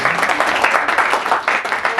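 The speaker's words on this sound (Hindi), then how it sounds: "उनके लिए तालियां होनी चाहिए" Audience applause at an open mic poetry event, a dense steady patter of many hands clapping close and loud for two seconds, with a little speech mixed in.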